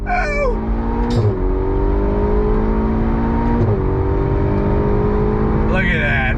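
A Ferrari GTC4 Lusso T revs hard in the gears, its engine note climbing and then dropping sharply at each of several downshifts, loud and close, with brief blips at the start and end.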